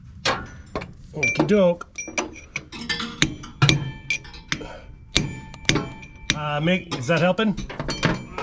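Metal-on-metal whacks from a hammer pounding a stuck part loose on a John Deere S690 combine, several sharp clanking strikes at uneven intervals, close by, with people talking between and over the blows.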